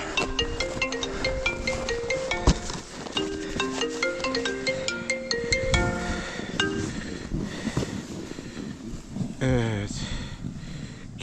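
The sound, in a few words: mobile phone ringing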